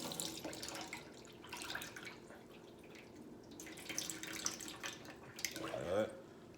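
Water pours and trickles off soaked sea moss into a sink, a soft running and splashing sound with small drips, fairly faint and close.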